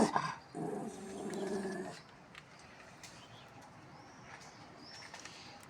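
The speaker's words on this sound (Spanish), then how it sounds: "hay perritos en la calle y a Bruce no le gusta" Bruce, a pet dog indoors, lets out a loud, harsh bark and growl near the start, aimed at other dogs in the street. A fainter, quieter stretch with distant bird and cooing sounds follows.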